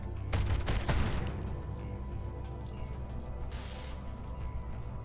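Video game combat: a dense burst of rapid gunfire and blasts in the first second, then a lower rumbling din with a brief spray-like hiss later, loud and close.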